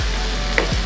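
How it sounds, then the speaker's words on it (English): Onions and garlic fry in a pan for vegetarian mushroom curry, a brief steady sizzle with a soft stirring scrape partway through. "The frying onion and the garlic together."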